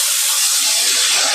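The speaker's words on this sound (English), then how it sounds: "You turn off your heat, you add in just a splash of water," Water splashed into a hot stainless steel pan with the heat just turned off, giving a loud, steady steaming hiss that fills the short moment alone.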